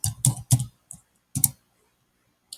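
Computer keyboard typing while entering data in Excel: a few crisp key clicks in short bursts, one quick cluster, a pause, then another pair of strokes, close and fairly quiet with silence between.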